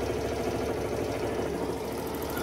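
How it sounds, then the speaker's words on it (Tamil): A Honda Access 125 scooter engine, after a slow-speed problem adjustment, idles steadily up close with an even low rumble and no variation. "ஏன்னா இப்போ அது ஐட்லிங் வந்து கரெக்டாக ஓடுதா"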